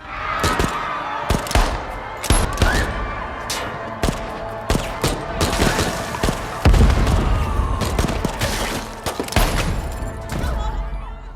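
A film shootout crackles with gunfire. Rapid, sharp shots come in irregular bursts, with heavier booms and thuds mixed in, and the intense exchange continues throughout.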